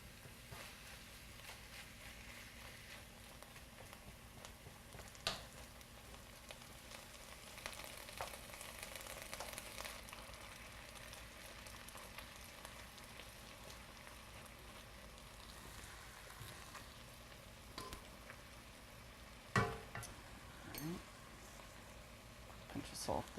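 Ground turkey sizzles in a hot pan, a low steady frying hiss running throughout with occasional clicks and stirring knocks, as a person talks over it.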